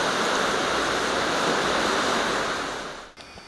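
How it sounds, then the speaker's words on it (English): Rushing water of a mountain stream near Bagneres de Luchon, France pours continuously in a broad, hissing wash, close and loud, then fades and cuts off near the end. "There's all that lovely water making its way down to some bigger river."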